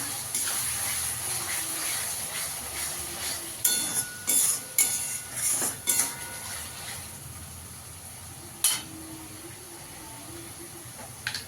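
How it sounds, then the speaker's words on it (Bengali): Ginger, garlic and green chili paste sautéing and being stirred for masala chicken, a steady soft sizzling hiss with scattered clinks and scrapes of a spoon against the pan. "আদা রসুনটা দিয়েও ভালো করে কষিয়ে নেব"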